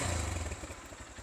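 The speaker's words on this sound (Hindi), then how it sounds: "साउंड अब तो काफ़ी लोगों ने सुन ही ली होगी जी कि CG 150 की साउंड कैसी है" A Honda CG 150 motorcycle engine runs steadily and close by, a rough low throb with rapid pulsing and no voices.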